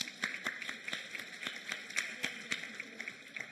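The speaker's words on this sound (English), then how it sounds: "round of applause for anyone sitting in this front row right now" Sparse, distinct hand claps from a small audience at a keynote talk, quiet and fairly close, a few people clapping unevenly rather than a full ovation.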